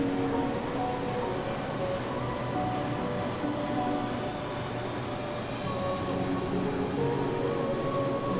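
Steady rumbling of a train in the game Plan B: Terraform, a continuous broadband rail hum with faint tonal lines, even and unbroken throughout.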